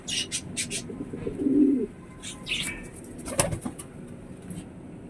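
Pigeons coo softly in low, throaty bursts, mixed with brief wing flutters and scattered chirps, fairly close.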